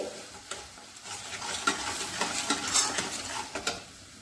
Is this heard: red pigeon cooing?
no